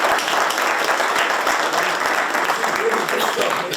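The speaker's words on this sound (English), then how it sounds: "Y'all clap it up for those guys." Audience applause at a Ball State sports gathering, a dense, steady wash of many hands clapping for the full length, loud and close, with some voices mixed in.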